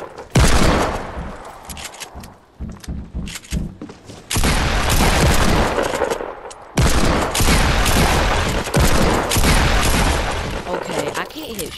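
Loud, dense gunfire from a shooter video game, with fast bursts and booming volleys in near-continuous fusillades, some sharp single shots between them.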